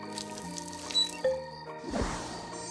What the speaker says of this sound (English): make sure you water it.